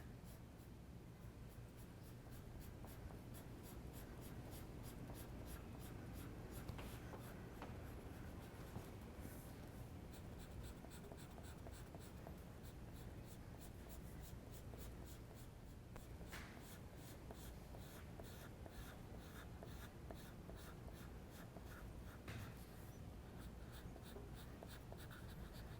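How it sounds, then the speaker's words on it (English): An ebony pencil scratches across paper while shading a horse head and neck portrait, making a quiet, steady rasp of close strokes that continues without a break. "I am using my ebony pencil because my 8B pencil did not give me a dark"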